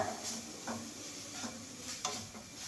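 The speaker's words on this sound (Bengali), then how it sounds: "আস্তে আস্তে এরকম মেশাতে হবে, একসঙ্গে দিকে ডেলা ডেলা হয়ে যাবে।" A spoon stirs Amul milk into a batter for patishapta, giving soft, quiet scraping swirls with a few small knocks against the bowl, close up and with no talk.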